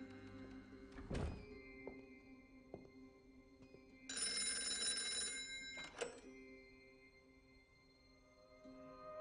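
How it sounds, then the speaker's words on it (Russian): A telephone bell rings in one bright, sustained burst in a quiet room. A heavy thunk comes before it, and a few soft knocks are heard around it. "Я сейчас отвечу на звонок"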